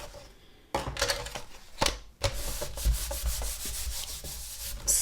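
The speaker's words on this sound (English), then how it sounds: "I'm just going to give that a rub over to distribute that adhesive." An old Puzzles scraper rubbed over paper to spread adhesive while building a lay-flat paper album, making dry scraping strokes that come in uneven bursts with short pauses.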